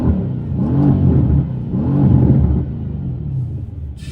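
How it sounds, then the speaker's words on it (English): A Mercedes C63 AMG's engine revs twice in deep, throaty rising-and-falling swells, heard loud and near from inside the car, then settles back to a low rumbling idle. "Let me give you guys some revs here as well."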